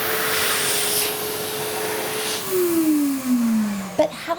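Automatic hand dryer blowing warm air, a steady loud whooshing rush that drops in pitch toward the end as it winds down, followed by a few clicks.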